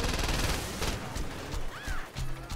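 Gunfire in Saints Row 2, a dense burst of shots at the start, then scattered cracks and impacts amid game noise and effects for the rest of the short stretch.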